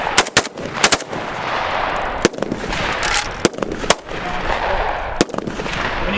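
An AR-15 rifle fires outdoors, a close, loud series of sharp shots at an uneven pace, with roughly ten cracks across the stretch and a steady noisy background between them.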